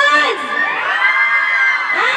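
Girls in a college festival audience shout and cheer together, a loud high-pitched crowd scream that holds for about two seconds and swells again at the end.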